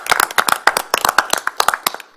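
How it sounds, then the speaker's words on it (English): At a town council meeting, a small audience gives newly appointed board members a round of applause: sparse, distinct close-up hand claps in an uneven rhythm that taper off after about two seconds. "And give you a round of applause."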